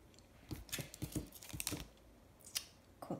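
Scissors snipping through craft paper for a Christmas mini purse gift bag, a quick run of close, crisp cuts followed by a few scattered snips, quiet and without talking.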